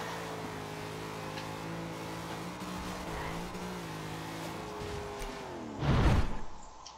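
A car revs up and accelerates hard in a Forza Horizon 2 drag race, its engine note climbing steadily with rising harmonics before a loud, rough burst of tire noise near the end.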